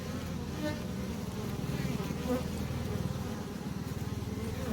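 A dense, continuous buzz of many honeybees at a hive entrance during a Capensis infestation, with bees swarming and fighting close by for the whole stretch.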